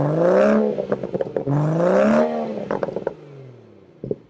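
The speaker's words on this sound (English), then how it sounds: "in my opinion, is the exhaust." BMW M240i exhaust note, two rising revs with a smooth climbing drone, followed by crackles and pops on overrun and a final short blip; fairly subdued, heard alone without speech.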